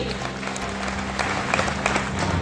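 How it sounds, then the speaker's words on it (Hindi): An audience at an award ceremony during the Bihar Agricultural University farmers' fair in Bhagalpur claps continuously at moderate loudness over a low electrical hum from the venue's sound system. "जोरदार तालियां इनके लिए"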